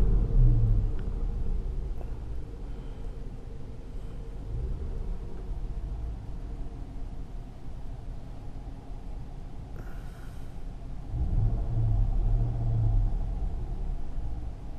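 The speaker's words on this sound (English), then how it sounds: "right now I got the car running. There's my revs." A Dodge Charger R/T engine idles steadily, a deep low rumble that holds for the whole stretch and swells slightly near the end, with no talking over it.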